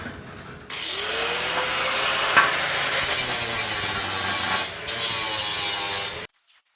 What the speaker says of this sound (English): so that was a lot of grinding